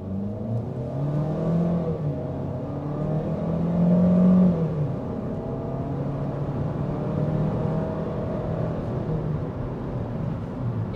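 2023 Chevy Equinox RS turbo engine pulling away from a stop, a muffled, smooth rising whir and engine drone heard from inside the cabin, swelling briefly around the middle before settling into a steady cruise hum.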